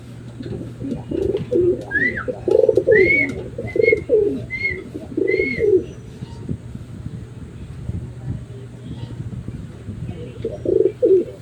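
Pigeons coo in a cage, a series of soft throaty coos in short phrases over the first six seconds and again near the end, with occasional higher chirps and a faint steady hum behind.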